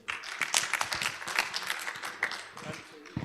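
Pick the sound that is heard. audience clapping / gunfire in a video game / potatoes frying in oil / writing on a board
audience clapping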